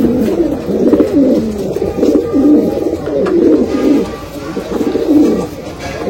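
Gehre Rampuri pigeons coo in continuous low, throaty rolling phrases, loud and close, with little else around them.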